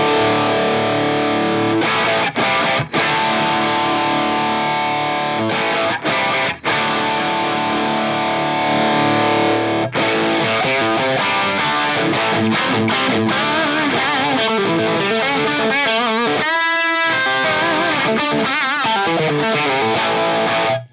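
An electric guitar plays through an Axe-Fx III 50-watt plexi amp model with speaker compression at zero. Loud, distorted high-gain riffing with sustained chords and staccato chugs runs continuously, with brief choked gaps.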